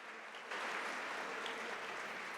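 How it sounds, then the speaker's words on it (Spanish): A church audience at a Spanish-language service starts clapping after half a second of quieter room sound, then keeps a steady, even wash of applause until the end. "denle un aplauso"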